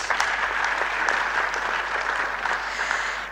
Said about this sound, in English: Please, let's give ourselves a round of applause.